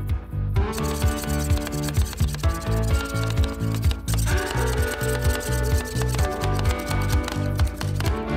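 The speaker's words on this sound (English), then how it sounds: "The freezing process has already started, so we scrape the Red Bull with cream from the surface." Spatulas scrape frozen Red Bull mixed with cream off a cold surface, making a steady rhythmic scraping and tapping that repeats quickly and evenly over a droning machine hum, close and fairly loud.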